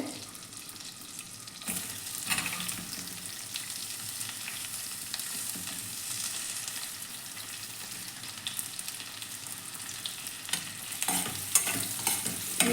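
Chopped onions sizzle in melted butter in a pan, a steady crackling fry broken up by scraping stirs, with no talking.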